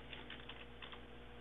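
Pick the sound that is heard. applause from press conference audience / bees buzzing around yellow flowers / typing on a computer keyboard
typing on a computer keyboard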